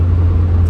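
Ford Cortina Mk5 with a turbocharged Pinto engine, a steady deep low rumble close by, loud and continuous with no clear rise in pitch, no voices over it.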